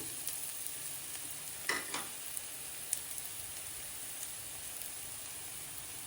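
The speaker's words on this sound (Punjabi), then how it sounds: "ਤਾਂ ਜੋ ਇਹ ਵੀ ਚੰਗੀ ਤਰ੍ਹਾਂ ਭੁੱਜ ਜਾਣ ਇਹਨਾਂ ਦਾ ਵੀ ਕੱਚਾ ਸਵਾਦ ਨਾ ਰਹੇ" Onion, garlic and ginger fry in a pan for a mixed vegetable dish, giving a steady soft sizzle with a few brief stirring scrapes and clicks.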